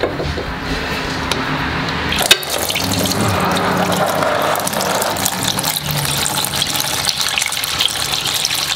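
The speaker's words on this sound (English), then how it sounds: "expect a decent amount of fluid to come out the back of this machine" Hydraulic fluid drains from the back of a John Deere X758 tractor into a pan during a 50-hour service, a loud steady splashing pour close by, with a sharp clank partway through.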